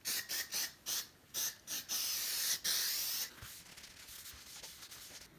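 Lemon scented furniture polish sprayed from an aerosol can: a quick series of short hissing bursts, then two longer sustained sprays, followed by softer rubbing sounds, close and without talk.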